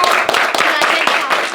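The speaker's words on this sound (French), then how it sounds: "s'il vous plaît, un tonnerre d'applaudissements pour Mousse" Audience claps for Mousse during a live stream, brief scattered hand claps mixed with loud voices talking over them.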